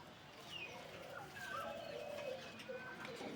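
Sherazi Lahori pigeon of European bloodline cooing softly nearby, a few low rolling coos with faint chirps in the background.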